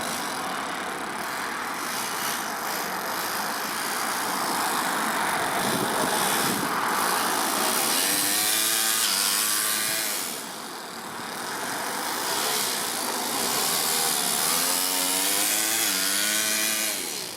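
RC car fitted with a four-stroke overhead-cam engine and two-speed transmission, running steadily on one tank with a buzzing drone that climbs and falls in pitch as it revs up, eases briefly, then picks up again.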